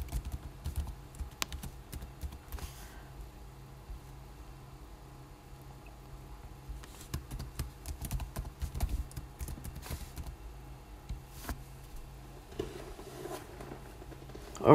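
Someone types an email address and password on a computer keyboard, a quiet run of soft, irregular key clicks with brief pauses between bursts and no talking.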